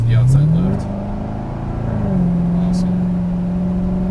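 A Chevrolet Corvette Stingray pulls out of a corner on a race track, its engine note rising loudly, dipping briefly on a shift, then climbing and holding a steady drone.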